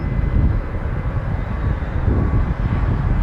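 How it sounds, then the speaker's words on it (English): An Air Canada Boeing 777-300 taking off at Toronto Pearson, heard as a steady, loud, low jet roar with wind buffeting the microphone. "777-300 taking off on the north side."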